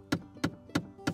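A car makes odd knocking noises: four evenly spaced dull thumps, each a sharp knock with a brief resonant tail, repeating about every third of a second at moderate loudness.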